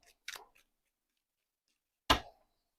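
A tarot card deck is shuffled twice, two brief crisp riffling snaps separated by a pause of silence, heard up close.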